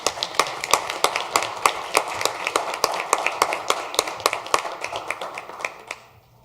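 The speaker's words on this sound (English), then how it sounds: "So let's give that hand of applause to our volunteers." Rhythmic clapping at a city council meeting honoring volunteers, a few people clapping in a steady, evenly spaced beat for several seconds before stopping abruptly.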